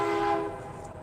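Train horn blast fading out over the low rumble of a train passing close by, tapering toward the end.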